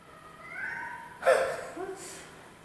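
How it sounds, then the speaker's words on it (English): A cat meows a few times, soft and slightly drawn out, with a breathy snort-like burst in the middle; quiet room, fairly close. "The cat's meowing though"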